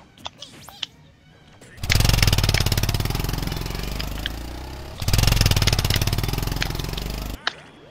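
Motorcycle engine in Super Smash Bros. Ultimate, a buzzing, rattling motor that roars steadily for about three seconds, cuts briefly, then roars again, with scattered game clicks and thumps around it.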